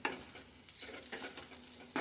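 Peanut powder being stirred into sago kichdi in a pan, a steady close scraping swish with a faint sizzle underneath and a few sharper strokes, no voices.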